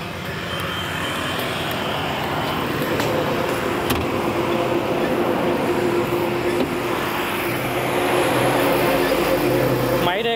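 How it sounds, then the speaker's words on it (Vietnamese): A used car's engine idles in its open engine bay, a steady, even hum with a low rumble that holds at constant level throughout, with faint background noise. "Cho bác nghe từng máy động cơ."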